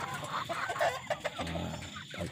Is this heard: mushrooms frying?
no